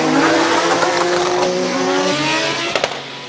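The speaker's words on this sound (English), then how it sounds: "the R35 hill climb purpose-built monster" A purpose-built Nissan R35 hill climb race car accelerates hard nearby, its engine note climbing through the gears with a sustained loud roar and a brief shift blip near the end.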